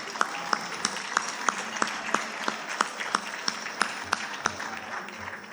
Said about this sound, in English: Let's give the kids another round of applause.